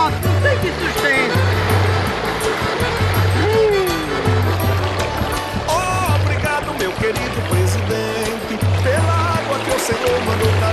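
Strong rushing water of the São Francisco river, a loud continuous roar that fills the whole stretch, with a low rhythmic thumping and scattered voices and other sounds over it.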